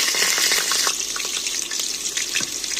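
Onion sizzling in hot oil inside a pressure cooker, a loud, steady crackling hiss with bright spattering pops throughout, close by and with no talking.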